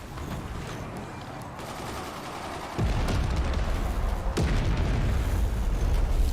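Cannon fire in the video game Forts: a sudden heavy boom kicks in, followed by a second blast and a sustained rumble of continuous battle noise.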